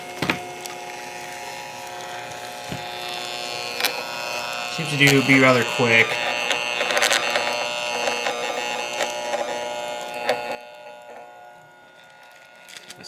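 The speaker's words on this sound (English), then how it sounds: "So we're gonna print it on high and just see how it looks." A small tattoo stencil printer whirs and clicks as it feeds a sheet, with a person speaking briefly, then the machine stops and it goes quiet.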